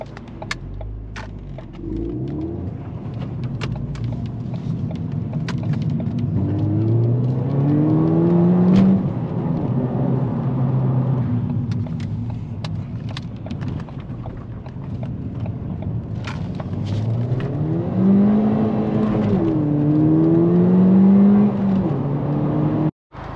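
Ford Fiesta ST200 hatchback heard from inside during a drive, engine pulling through gears with rising revs, shifts and steady road roar, loud and close with no talk.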